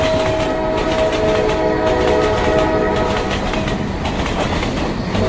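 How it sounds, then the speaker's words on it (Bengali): A train rumbles loudly across a bridge, with a steady, dense roar of wheels and rails and a sustained horn-like tone running throughout. "বিরাট শব্দ করে ব্রিজটাকে থরথর করে কাঁপিয়ে ট্রেনটা উল্টো দিকে চলে গেল"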